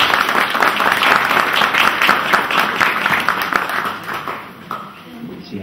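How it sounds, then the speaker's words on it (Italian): An audience at an art exhibition evening bursts into loud, dense applause for an artist, holding strong for about four seconds before thinning out slightly toward the end. "Questo credo sia l'applauso che Gianfranco si merita fin dall'inizio."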